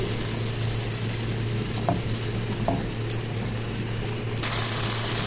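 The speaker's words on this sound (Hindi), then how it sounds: "ये लीजिए मसाला हमारा बहुत अच्छे से भुन गया, ऑयल सेपरेट हो गया और टमाटर भी हमारे सॉफ्ट हो गए।" Masala with two chopped tomatoes sizzles steadily in oil for baingan bharta, a constant close hiss with a few light clicks of stirring and a brighter burst of frying near the end.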